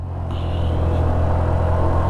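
A Honda Navi scooter pulls away from traffic, its small engine rumbling and building steadily in a loud, continuous rise as it accelerates, heard from on board with no talk.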